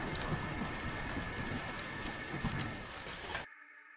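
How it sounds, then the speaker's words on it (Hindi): Steady, dense rain pours down with a constant hiss, then cuts off abruptly near the end; any thunder is buried in the downpour. "कुछ ही देर में फिर से तेज बारिश शुरू हो गई।"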